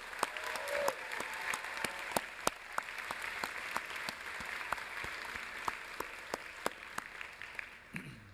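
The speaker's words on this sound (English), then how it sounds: "Let's give these folks a big round of applause." A convocation audience applauds orientation counselors, with steady hand clapping from a large crowd in a hall, sustained and fairly even, with sharper individual claps standing out.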